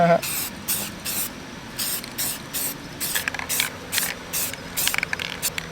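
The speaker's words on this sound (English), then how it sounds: "at least we're using self-etching primer, right?" Self-etching primer sprayed onto a street car under build, in repeated short hissing bursts of an aerosol can with brief pauses between, close and fairly loud, with faint rattling of the can's mechanism.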